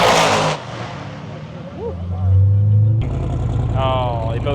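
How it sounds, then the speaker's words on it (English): Drag racing cars at a Sick Week 2025 event roar past at high speed, engines loud and close as they rip by, one revving pass after another with a Doppler sweep while a voice talks over the noise. "watch some cars rip by at 200 miles an hour"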